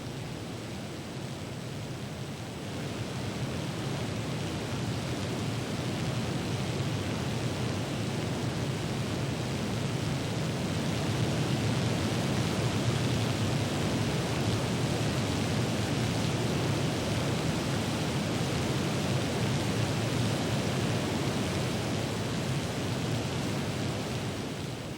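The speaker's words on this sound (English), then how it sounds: "the cold waters of the Yellowstone cascade over the lower falls in a thundering drop twice the height of Niagara" The Lower Falls of the Yellowstone River thunder in a steady, dense roar of falling water, loud and unbroken throughout with no voices.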